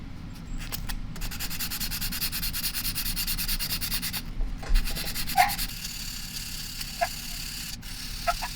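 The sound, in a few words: sanding a brake rotor with 400 grit sandpaper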